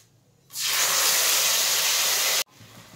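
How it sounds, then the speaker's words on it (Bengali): Ginger paste hits hot oil fried with bay leaf, dried red chilli, whole garam masala and cumin, bursting into a loud, steady close hiss that holds for about two seconds and then cuts off abruptly. "এবার দিয়ে দেব আদা বাটা"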